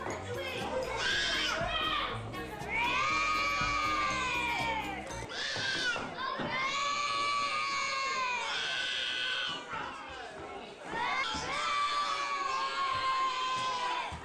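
Children screaming and shrieking at a costume party in an old home video, repeated loud high-pitched wails and shouts in bursts, close and dominating, with crowd noise around them.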